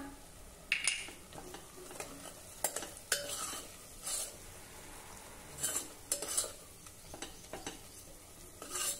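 Spices, red chili powder and goda masala sauté with tomato in a pan for traditional Vidarbha-style chawali dal, a quiet sizzle broken by repeated spoon scrapes and clinks against the pan.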